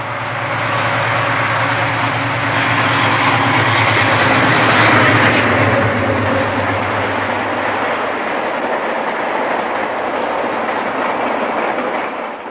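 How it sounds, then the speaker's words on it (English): An empty Penn Central coal train at Howell, Michigan, returning from the Dow Chemical power plant at Midland toward Toledo: a loud, continuous rumble with rhythmic clickety-clack of wheels on rail, easing slightly toward the end. "Today's action at Howell finds a Penn Central coal train returning empty from the Dow Chemical Power Plant at Midland, Michigan, headed for Toledo and its own rails"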